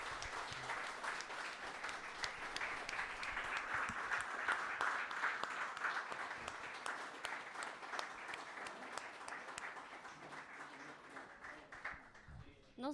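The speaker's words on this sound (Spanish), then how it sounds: "Un aplauso para ustedes." An audience at a talk gives sustained applause, a long, even wash of many hands clapping that holds steady and then gradually thins toward the end, heard from some distance.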